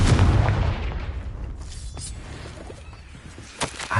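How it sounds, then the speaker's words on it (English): The Confringo explosion spell in the video game Hogwarts Legacy bursts with a heavy, close boom that fades into a decaying rumble, followed by a few sharp crackling pops. "Confringo!"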